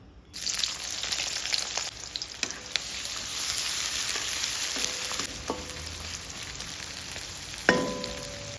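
Chopped onions sizzle and crackle steadily in hot oil while cooking a mango fry, with occasional clinks and scrapes of stirring over the continuous hiss.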